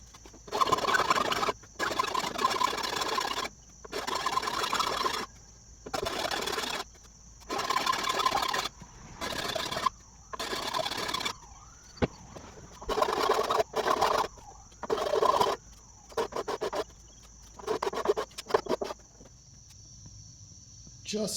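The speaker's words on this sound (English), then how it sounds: "I'm sure there's not too many people that would take a file to their senior hood, but that's what you're about to witness." A hand file shaping the fiberglass hood of a 1955 Wheel Horse Senior garden tractor, making repeated rasping strokes in bursts of one to two seconds separated by brief pauses, close up, alongside a faint steady background whine.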